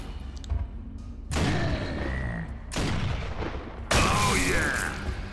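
A Boltok pistol fired in Gears of War: three heavy, booming shots spaced over a few seconds, each a loud punchy blast with a ringing mechanical tail, over a low game ambience.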